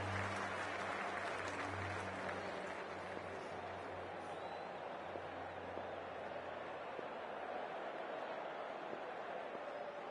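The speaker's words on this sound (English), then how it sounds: "already the crowd is up and about" A large crowd at a Big Bash League cricket stadium, Melbourne Renegades versus Hobart Hurricanes, cheers and applauds before the opening ball, a dense continuous roar of clapping and voices with low hum underneath, steady throughout.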